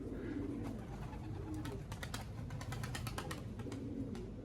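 Several homing pigeons cooing in low, throaty murmurs, overlapping close by, with scattered clicks and shuffling in the background.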